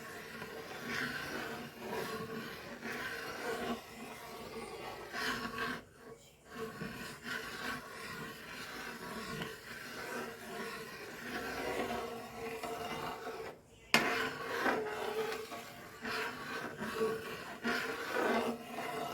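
A spoon stirs thick banana payasam in a pot, giving soft continuous scraping and rubbing close by, broken by two short pauses.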